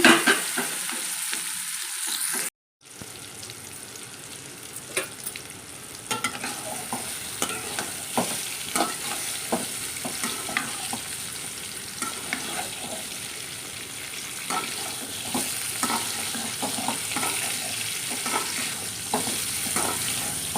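Sliced bitter gourd and curry leaves frying in a hot tempering make a steady, close sizzle, with repeated stirring scrapes and light clatter running throughout after a brief pause near the start.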